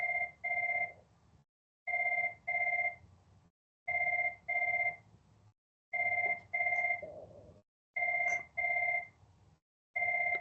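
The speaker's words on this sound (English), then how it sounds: "Pardon my phone for going off." A mobile phone rings in a meeting room with a classic telephone-bell style double ring, repeating in regular pairs about every two seconds, clear and fairly close with no talk over it.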